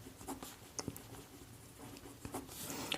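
Chalk or marker taps and strokes on a classroom board as a teacher writes out a Class 10 maths solution, soft scratchy writing sounds over a faint room background.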